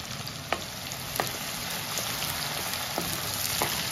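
Onions frying in a pan while cooking drumsticks with potatoes, a steady close sizzle crackling throughout, with a few sharp pops standing out above the hiss.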